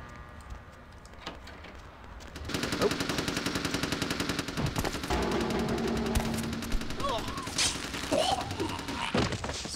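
Rapid gunfire from the video game Vampire: The Masquerade - Bloodlines, loud dense bursts of shots that start a couple of seconds in and continue steadily to the end, with a few heavier thumps in the mix.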